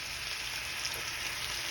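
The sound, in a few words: red wine added to sizzling baked ziti meat sauce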